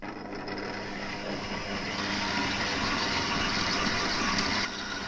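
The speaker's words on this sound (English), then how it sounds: "And now I'm going to turn my mixer on and give these a mix on a low speed." A handheld electric mixer on low speed creams butter and sugar in a bowl. It gives a steady, close whirring drone for about four and a half seconds, then switches off.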